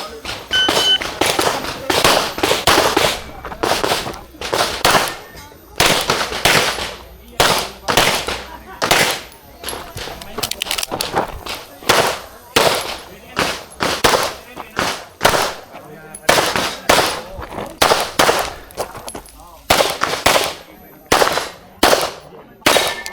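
Rapid gunshots ring out at a practical shooting competition, sharp loud reports fired in quick strings with short pauses between bursts, echoing across the range.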